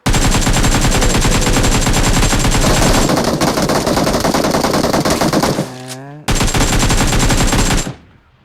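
Rapid automatic gunfire from the video game Free Fire rattles loud and continuous, cutting out briefly before another dense burst resumes.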